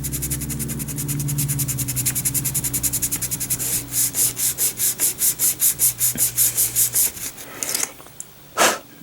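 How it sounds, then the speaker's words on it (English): Sandpaper rubbed back and forth on a plastic model kit to smooth a scribed line, giving a close rasping scrape that builds into a steady rhythmic series of strokes, then stops, with a few sharp knocks at the end. "where's my sandpaper? I just had it. Sand it out."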